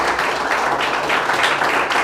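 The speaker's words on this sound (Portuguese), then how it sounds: "Quem entendeu pode aplaudir e glorificar." A church congregation applauds together, a dense, steady wash of clapping that fills the whole moment at an even level.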